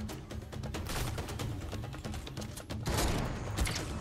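Rapid gunfire crackles in a Fortnite match, a dense burst of sharp shots and clicks running almost continuously, fairly quiet overall, with no talk over it.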